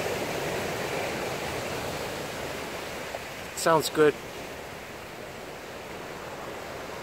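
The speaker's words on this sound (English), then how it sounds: "The waves crashing." Ocean surf rumbles on the shore at Surfer's Point with a steady, washing roar as the tide goes out, and a voice briefly speaks partway through.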